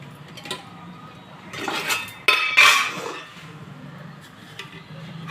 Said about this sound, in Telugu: స్టవ్ వెలిగించి పాన్ పెట్టాను